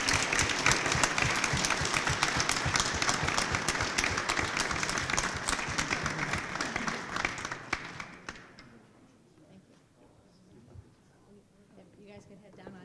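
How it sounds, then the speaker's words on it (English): A school board meeting audience gives a round of applause for student Soaring Eagles, a dense sustained clapping that fills the room for about eight seconds before fading into quiet murmuring and faint talk. "if we could give a round of applause to all of our Soaring Eagles"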